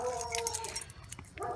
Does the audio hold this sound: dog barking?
yes